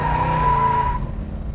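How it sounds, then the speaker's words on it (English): A 1967 Chevrolet Chevelle's tires squeal loudly and up close under full throttle, a sharp screech lasting about a second over the engine's roar before fading out. "you wanna squeak the tires a little bit, all you gotta do is put the accelerator to the floor"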